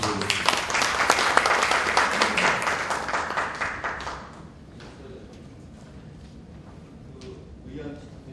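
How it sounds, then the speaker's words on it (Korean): A crowd claps in a dense burst of applause for about four seconds at a Korean trade association's extraordinary general meeting, then it dies away, leaving a quiet room with scattered small sounds. "박수 부탁드립니다."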